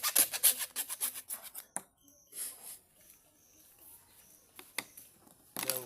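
Conduit pipe being cut to remove the excess end, heard as a run of quick rasping saw strokes close by at the start, then quieter scraping and handling noises with a brief sharp knock.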